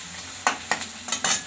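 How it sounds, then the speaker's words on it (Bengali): Onions frying in a pan, browned red, for a pointed gourd and poppy seed dish, a soft sizzle broken by several quick scraping stirs in close succession, with no talk. "আমার পেঁয়াজটা খুব সুন্দর ভাজা হয়েছে, লাল লাল করে পেঁয়াজটা ভাজা হয়ে গেছে।"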